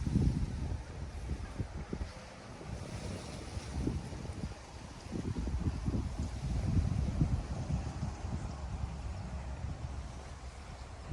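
A cool breeze blows across open countryside fields, rumbling in gusts against the microphone. The rumble rises and falls at a fairly low level, with no speech.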